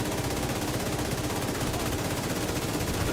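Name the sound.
heavy ammunition gunfire with explosions in a video game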